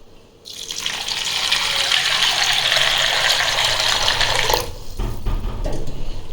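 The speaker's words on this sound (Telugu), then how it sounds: "ఇప్పుడు ఈ వాటర్లో మొత్తం అంతా కూడా ఒక్కసారి శుభ్రంగా కడుక్కోవాలి మనం" Water rushes loudly from a tap for several seconds while peanuts and tomatoes are rinsed, then stops, leaving a few quieter splashes and clatters.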